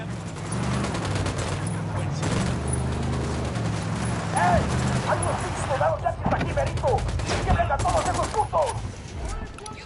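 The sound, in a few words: gunfire from a video game firefight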